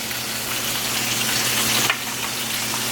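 Vegetables sizzle and fry steadily in butter in a pan as ketchup goes in, a dense continuous crackle with a brief dip near the end, close and fairly loud, no voices.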